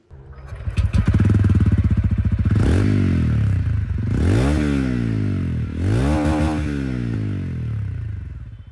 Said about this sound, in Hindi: तो दोस्तों ये था रॉनिन का आवाज़।